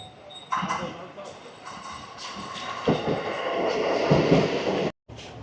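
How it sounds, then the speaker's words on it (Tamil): A train in Myanmar rumbles and clatters as it pulls in, the noise swelling, with voices talking nearby. "ட்ரெயின் வந்துருச்சு இங்கே"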